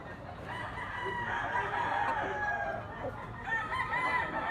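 A young bull stag rooster with yellow legs crows repeatedly at close range, loud harmonic calls carrying over steady farmyard background noise.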